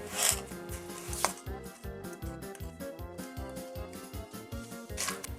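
Sour cream is rubbed together with sugar in a bowl for mandryky cookie dough, giving regular scraping strokes up close over quiet background music.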